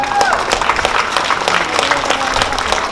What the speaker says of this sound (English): you should be all applauded for all your efforts